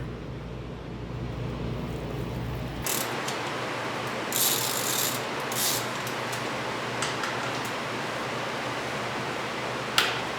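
Ratchet wrench working the oil drain nut on a Suzuki V-Strom 1000 motorcycle, a steady stream of close metallic clicking after a low hum cuts off, with a few sharper clinks near the end.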